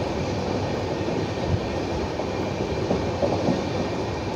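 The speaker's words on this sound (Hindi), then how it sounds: "हमारी ट्रेन धीमे गति से चलत है।" Steady rumble of a slow-moving Indian passenger express train on the Shirdi–Durg route, continuous low wheel and carriage noise close by with faint rhythmic clatter, no voices.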